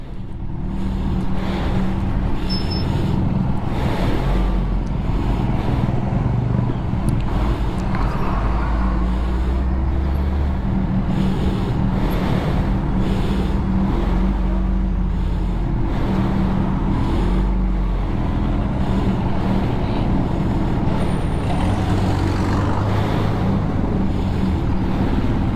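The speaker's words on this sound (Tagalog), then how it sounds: "Traffic." Road traffic around a Kawasaki ZX-10R or Z H2 motorcycle ride, with a loud, steady engine and road roar running continuously throughout.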